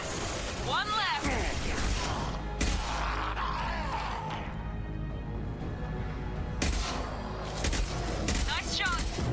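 Gunfire from a Mass Effect 2 firefight, dense bursts of shots with mechanical clatter and booms running throughout, mixed with game music and voices talking over the action.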